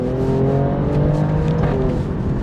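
A 2025 Alfa Romeo Stelvio Quadrifoglio accelerating hard, engine tones rising steadily through the gears, loud and close with a continuous road roar.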